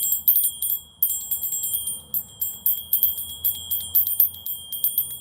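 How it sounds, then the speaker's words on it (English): High, bright chimes ring in quick repeated strikes, shimmering and sustained, with a soft rhythmic pulse under a quiet background. "I'm going to do the bells"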